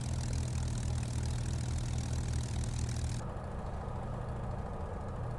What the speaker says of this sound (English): when I pull back to idle, listen. You'll hear some of that kind of rattly, pottery, burbliness